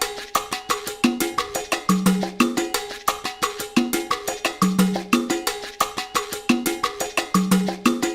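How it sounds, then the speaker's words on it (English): Congas play a looping Ghanaian gospel highlife pattern of bright slaps and low tones, locked with a steady, clanking cowbell in a repeating, danceable rhythm. "together with the cowbell, it sounds like this."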